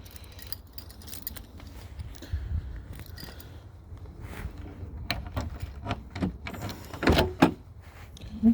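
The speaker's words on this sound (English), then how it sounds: "Open the door here." The door of a neglected 1995 Pontiac Firebird Formula LT1 that has sat for a long time is opened, giving a series of faint mechanical clicks, creaks and a latch clunk near the end, with no talk.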